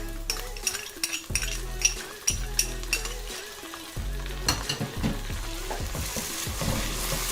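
Onions with ginger-garlic paste fry in hot oil for mutton kaleji masala, giving a steady loud sizzle while a spoon stirs and scrapes the pan in repeated clanking strokes, with no talking.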